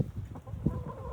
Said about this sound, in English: But this is all our chickens. They want me to let them out.